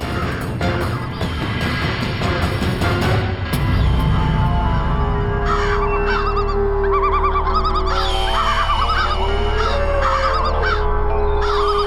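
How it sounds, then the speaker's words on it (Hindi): A flock of birds, honking like geese, calls loudly and continuously, with layered overlapping cries over a dense background that shifts partway through. "तो संभवतः ये समस्त पक्षी इनके दर्शन करने आए हैं"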